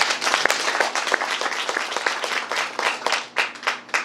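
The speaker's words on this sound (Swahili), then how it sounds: "Tupigie Kristo makofi." A church congregation claps in praise during a worship service, dense rapid applause with many hands, steady and close, rising and falling slightly over a few seconds.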